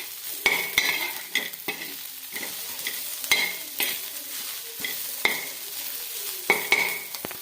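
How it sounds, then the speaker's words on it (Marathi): Chopped onion sautés on a hot griddle, a steady close sizzle broken by repeated sharp scrapes and stirs of a spatula at an uneven rhythm, with no talking. "इकडे कांदा पण परतत आलेला आहे तव्यावरती"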